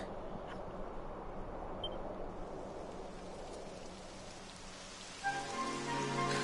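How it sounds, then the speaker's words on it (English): Steady rain in the video game Dragon Quest XI patters across a surface, a dense hiss of drops that continues throughout, with a brief click and a soft tonal hum near the end. "It would have to go and start raining, wouldn't it?"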